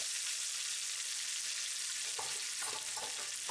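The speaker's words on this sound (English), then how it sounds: "The garlic, the tomato, onion. And let these saute for at least a minute or so that they can get soft." Garlic, tomato and onion sauté in butter and oil in a pan with a steady, loud sizzle and a few soft stirring scrapes near the end.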